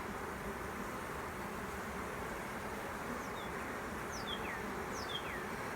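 Honey bees buzzing around hives in an apiary on a warm 80-degree day, a dense continuous drone of many wings close by, with a few brief higher whines passing near.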